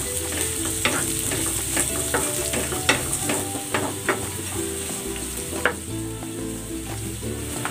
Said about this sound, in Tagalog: Magigisa na ako ng luya at ng bawang. Gigisa ko na rin tong sibuyas.